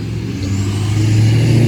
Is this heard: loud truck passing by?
yes